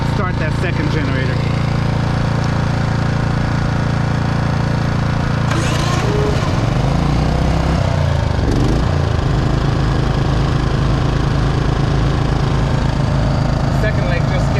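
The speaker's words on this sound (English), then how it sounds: "Let's start that second generator." A second GENMAX Gm4600i inverter generator starts and then runs loud and close beside another running unit, a constant engine drone whose pitch sweeps as it settles into a steady hum, with a voice talking over it.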